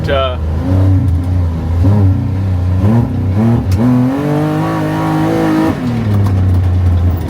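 A Can-Am HD11 off-road vehicle with an aftermarket exhaust, clutch kit and ECU tune idles roughly, then revs up several times in rising bursts, loud and close, exhaust rumbling steadily throughout.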